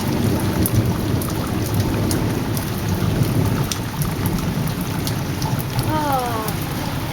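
A heavy thunderstorm sounds close, with steady hard rain and rolling thunder filling the whole stretch. A brief rising-pitched tone shows up near the end.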